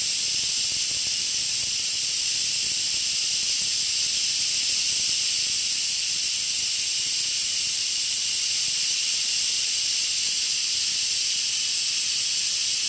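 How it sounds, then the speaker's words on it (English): Steam hisses steadily from an Instant Pot pressure cooker during a controlled quick release, a constant, loud, bright hiss that holds unchanged throughout with no voices. "So this is a controlled quick release."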